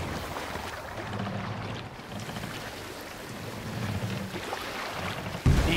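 A Viking longship rows through water in Assassin's Creed Valhalla, with a steady wash of water, creaking hull and gusty wind at moderate level, ending in a sudden louder splash.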